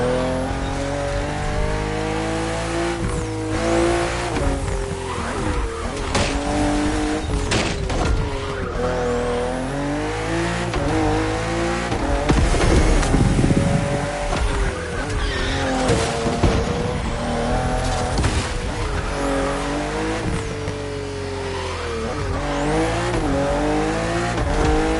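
A BMW M4 CSL racing in The Crew Motorfest, its engine revving up and down through gear changes with repeated tire squeals and skids, loud and continuous over a long stretch, without speech.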